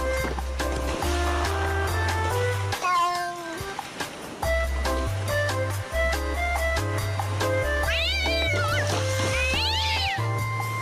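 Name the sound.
cat meowing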